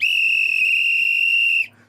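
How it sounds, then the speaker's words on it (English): A referee's long final whistle at a World Cup Round of 32 football match between Portugal and Croatia sounds as a single loud, steady shrill blast lasting over a second and a half, then cuts off. "We're probably going to get that whistle right now."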